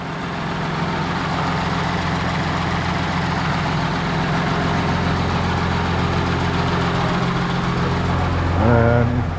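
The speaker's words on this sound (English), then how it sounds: "And Matt, do you want to start the car for me, mate?" Audi Q7 engine idling steadily and close, a continuous low rumble with a slight rise near the end, as though revved or started, in a repair setting.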